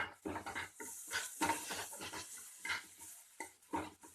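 A chili sauce and soy sauce mixture stirred in a bowl, giving soft, quiet wet scrapes and squelches in an uneven rhythm of short strokes, close and alone.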